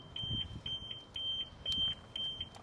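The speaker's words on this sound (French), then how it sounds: "Alarme fonctionnelle." Repeated short electronic beeps from a car alarm, sounding in quick bursts over low rumbling background noise.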